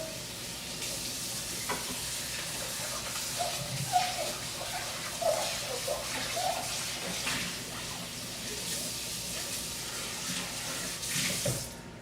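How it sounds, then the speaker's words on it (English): Running tap water splashes into a bowl being rinsed in a kitchen sink, a steady hiss with irregular sloshes and clinks, fairly quiet and with no talk. "Let me wash this bowl out so we can use that."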